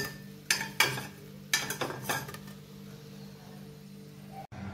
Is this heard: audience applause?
no